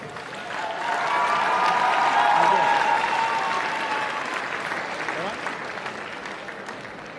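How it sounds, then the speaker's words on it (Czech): Audience applause at the Miss Czech Republic 2022 crowning event swells to a loud, sustained roar with crowd noise and tonal background sound, then gradually eases off while staying dense and continuous. "váš potlesk pro ní"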